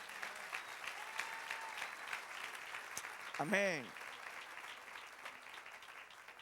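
A church congregation applauds steadily during a sermon, a dense wash of clapping that runs through the whole stretch, with a brief spoken interjection partway through.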